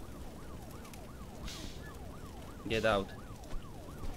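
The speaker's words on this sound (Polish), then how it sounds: "przyjechała straż pożarna" A fire engine siren wails in the Broke Protocol game, its rising-and-falling tone cycling steadily at moderate distance while a voice breaks in briefly over it.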